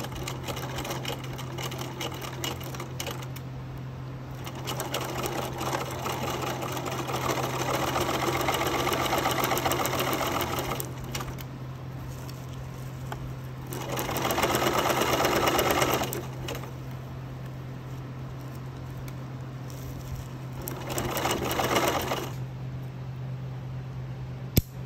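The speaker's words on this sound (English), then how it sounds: "it is time to do the final sewing" A sewing machine stitches a tulle boa in several long runs, its rapid steady whir swelling louder in bursts and easing between them, close and clear with no talking.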